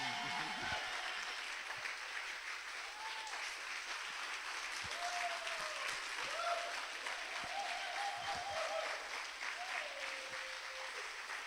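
A church congregation applauds at a Sunday service, sustained dense clapping filling the hall for the whole stretch while a voice speaks faintly over it.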